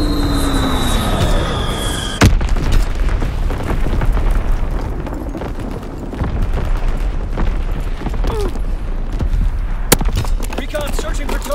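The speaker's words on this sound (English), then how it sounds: "Firing primary battery" Naval primary battery salvos in Call of Duty WWII, a sharp loud blast near two seconds and another near ten rising over a constant rumbling wash of battle noise, with a radio-style voice talking under it.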